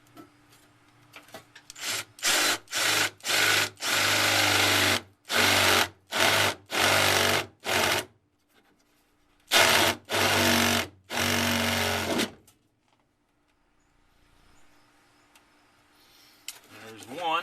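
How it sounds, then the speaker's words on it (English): A cordless hammer drill runs in repeated short bursts of loud buzzing, then two longer runs after a pause, close by in a quiet workshop setting while working on a 1994 Ford F-150 window motor. "Got it set to hammer drill, don't really need that."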